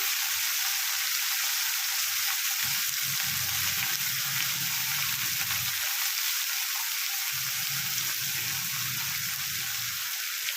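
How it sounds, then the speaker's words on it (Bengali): Raw red lentils (masoor dal) hit hot oil with whole-spice tempering in a wok, giving a loud, steady sizzle throughout with low rumbling bursts as the pan is stirred; no voices. "এইভাবে কড়াই দিয়ে দিলাম, ফোড়ন দিলাম, দিয়ে কাঁচা মুসুর ডালটা দিয়ে দিলাম"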